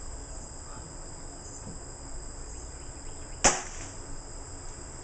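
A single sharp, loud crack of an air rifle firing, standing out once against a steady background hiss of insects and faint ambience.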